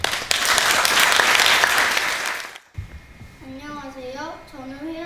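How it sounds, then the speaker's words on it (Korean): Audience applause at a memorial ceremony for Dr. Lee Young-chun welcomes a third-grade schoolgirl, a dense loud wash of clapping for about two and a half seconds, then breaking off abruptly as a voice begins speaking. "큰 박수로 맞이해 주시기 바랍니다."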